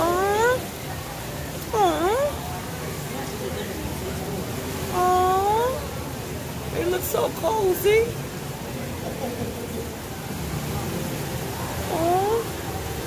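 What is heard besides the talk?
Asian small-clawed otters vocalizing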